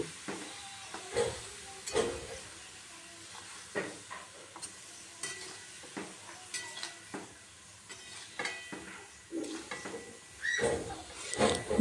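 Potatoes, pointed gourd and okra with a little water being stirred in a pan, repeated scraping strokes of a spoon against metal over a low sizzle, close and rhythmic with no talk.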